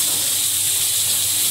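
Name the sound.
dried chili, chopped onion and garlic sizzling in oil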